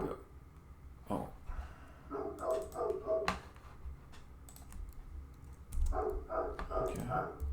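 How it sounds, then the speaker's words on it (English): Indoors, a dog barks in a few short bursts against a background of computer keyboard typing and clicking, with a person speaking intermittently nearby. "the dog heard a sound effect and started barking"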